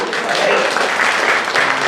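A comedy club audience at a standup set in an arthouse theater breaks into applause, steady loud clapping filling the room for a couple of seconds.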